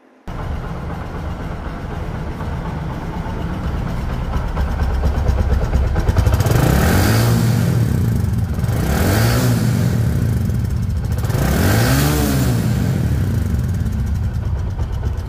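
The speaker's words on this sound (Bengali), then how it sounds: "রানিং অবস্থায় গাড়িটির সাউন্ড শুনুন" A 2022 Bajaj Platina 110 cc motorcycle in showroom condition runs close by, its steady engine idle broken by three rising and falling revs, loud and continuous with no voices.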